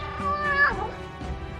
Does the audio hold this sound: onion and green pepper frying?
no